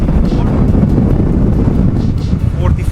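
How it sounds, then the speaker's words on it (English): Strong, gusty cyclone wind at anchor in Te Kouma Harbour, Coromandel, New Zealand, roars steadily against the microphone, a dense low rumble with faint background noise throughout. "it's very, very, very gusty, very windy."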